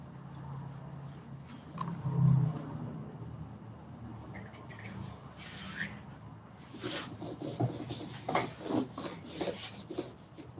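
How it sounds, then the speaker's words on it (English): Hand sanding a primed wooden barn door between coats of primer: soft scraping rubs at first, then a run of quicker, rhythmic back-and-forth strokes close by, with no talking. "Sand in between the coats too"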